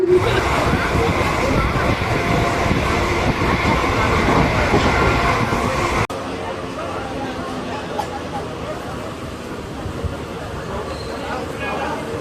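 Saptagiri Express train running between Chennai and Tirupati, heard from inside as a steady loud rumble with rail noise throughout, dropping to a quieter level midway with an abrupt shift in the sound.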